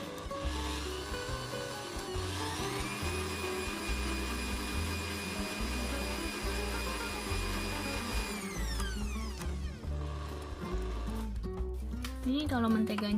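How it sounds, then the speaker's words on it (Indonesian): An electric hand mixer beats nastar pastry dough after egg yolks are added, giving a steady, continuous whirring drone with light scraping against the bowl. Background talk runs underneath throughout. "mixer lagi sebentar."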